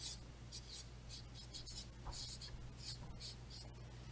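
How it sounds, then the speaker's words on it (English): A word being written by hand, soft scratchy strokes in quick bursts, quiet and close, with no talking. "I write that word down here."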